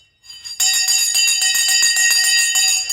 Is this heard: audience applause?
no